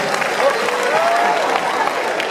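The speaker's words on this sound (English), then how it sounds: "Clap for her. Clap for her." An audience applauds steadily, a dense wash of clapping with a voice speaking over it.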